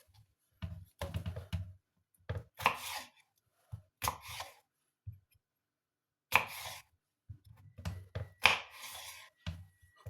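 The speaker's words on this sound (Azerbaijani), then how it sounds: "İndi isə keçirik xiyarımıza və xiyarımızın bir neçə hissəyə bölüb" A knife chopping a cucumber into pieces on a board makes irregular clusters of crisp, close thuds separated by short pauses, with no talking.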